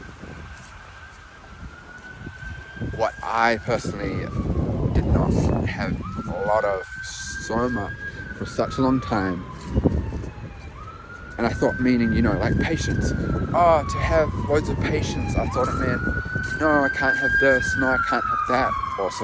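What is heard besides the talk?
ambulance siren passing by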